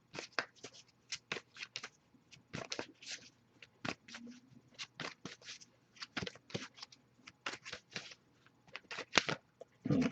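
Short bursts of tarot cards being shuffled, repeated many times in an uneven rhythm with quiet gaps between them, close and clear.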